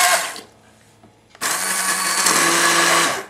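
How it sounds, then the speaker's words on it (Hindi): A short whir fades, a pause follows, then a blender grinding mustard greens kicks on loudly with a steady grinding roar that runs to the end. "इसको हम ब्लेंडर को चलाएंगे"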